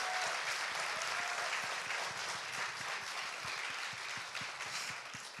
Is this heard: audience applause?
yes